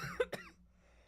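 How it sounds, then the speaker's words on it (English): Two sharp coughs close together from a young person, near and fairly loud, followed by quiet room tone. "I don't know why I'm coughing."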